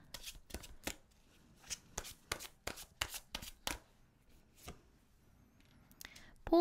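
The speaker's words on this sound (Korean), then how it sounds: "자, 그럼 마지막으로 조언 카드 2장 뽑아볼까요?" Tarot cards being shuffled by hand, a rapid series of crisp riffling and slapping bursts spread across the clip, fairly quiet and close, with a pause near the end before one final burst.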